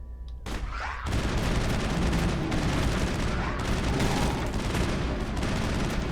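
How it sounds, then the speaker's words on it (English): Rapid pistol gunfire rattles through a firefight in the video game Mass Effect, a dense, continuous burst of shots that starts after a second and keeps going to the end with faint background sounds. "Garrus, why are you using a pistol?"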